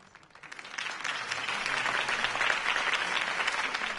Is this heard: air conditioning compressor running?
no